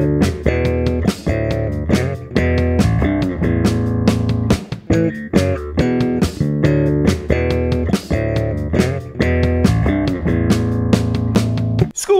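Bass guitar plays a line in A around 140 beats per minute, loud percussive chordal plucks and slaps in a driving rhythm, heard alone without talk.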